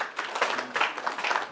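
A round of applause at the launch of a mental health NGO, brief and somewhat thin clapping that swells in uneven bursts and stays moderately near, with no voices over it.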